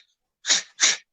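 A person imitating the grunting sound a yak makes when angry or threatened: two short breathy, snorting bursts in quick succession, fairly faint, with no other sound.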